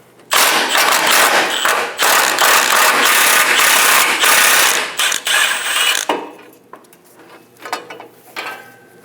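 A ratchet with a 15mm socket loosens the front fuel tank strap bolt under a Chevrolet Express 2500 van, a close series of rapid clicking bursts broken by brief pauses, then quieter scattered clicks.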